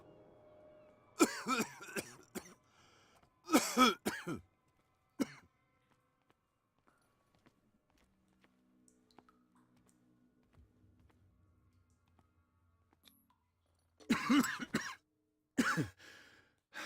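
A person coughs and clears their throat in a few separate fits, with long quiet stretches between them and a faint low hum in the background.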